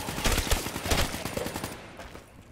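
Rapid bursts of gunfire from a zombie-fighting gun in a video game, a fast close run of sharp shots that fades out toward the end, with no talking over it.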